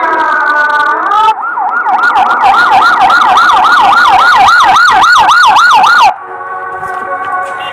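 A loud, close ambulance siren wails in fast rising and falling sweeps for several seconds, cutting in abruptly over a steady tone and stopping just as suddenly.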